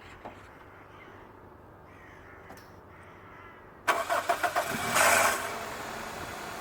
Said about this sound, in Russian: стартер издает какие-то подозрительные посторонние звуки